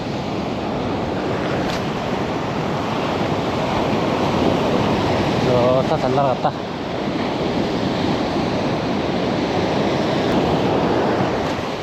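Ocean waves rolling onto the shore at Sokcho while fishing, a loud continuous surf wash with wind noise on the microphone and a brief voice partway through.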